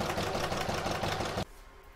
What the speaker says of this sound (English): Put it back in my machine and stitch round number three to hold it down.